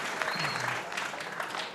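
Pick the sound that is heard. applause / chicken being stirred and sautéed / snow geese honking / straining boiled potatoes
applause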